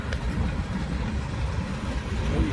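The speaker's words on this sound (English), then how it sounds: "Almost 600 axles on this train." Long Union Pacific freight train of almost 600 axles rolling past slowly at about 12 mph near Wheelon, Utah, a steady low rumble and rattle of wheels at close range with no break.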